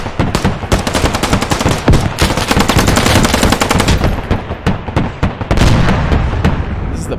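Loud, sustained machine gun fire in the video game Squad, long automatic bursts separated by brief gaps and ending in shorter choppy volleys of sharp, close cracks.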